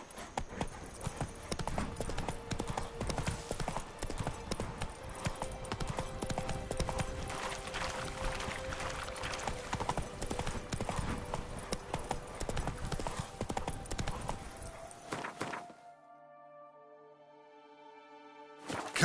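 Horse hooves clip-clopping in The Witcher 3, a steady, close rhythmic trot that runs for about fifteen seconds before cutting out to a quiet musical tail, with no voices.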